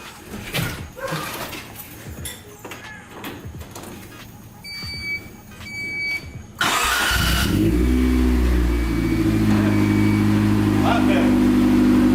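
Shuffling and handling noises give way to a 1990 Honda CRX with new headers and full exhaust cranking and starting, then settling into a loud, deep, steady exhaust rumble.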